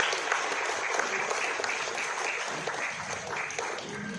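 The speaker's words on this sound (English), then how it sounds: "A big round of applause for Mr. Shyam Thapa" A crowd applauds a guest at the closing ceremony of a club sports carnival, steady dense clapping sustained throughout at a moderate distance with no voices over it.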